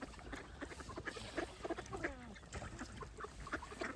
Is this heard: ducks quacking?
yes